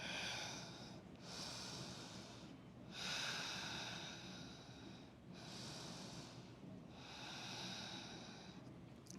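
Slow, deep breaths during a downward dog hold in a power vinyasa yoga flow, about three long inhale-exhale cycles, close and soft, with no talking.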